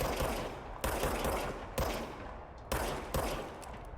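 Gunfire in the action game Control on PC, a weapon firing in several sharp bursts spaced about a second apart, loud and close with a rumbling tail after each volley.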